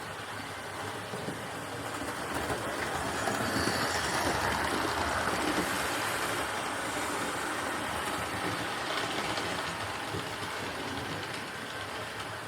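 A Dapol Hinton Manor model locomotive runs along a model railway layout, giving a steady, continuous mechanical rumble and whir that swells slightly midway and carries on evenly throughout, with no voices.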